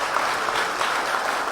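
Sustained applause from a crowd at a Kenyan political rally, dense and steady across the whole stretch, with no voices standing out.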